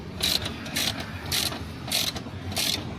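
Ratchet wrench with a 14 mm socket loosening a mounting bolt on a Wagon R, five quick bursts of rapid clicking at an even rhythm, close and clear, with no talking.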